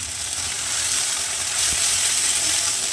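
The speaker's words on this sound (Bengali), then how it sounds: "এরপর আমি এর মধ্যে একটু জল দিচ্ছি" Water poured into ginger-garlic spice paste frying in a pan for a katla fish curry gives a steady, close, bright sizzle that hisses continuously for a few seconds with no talking.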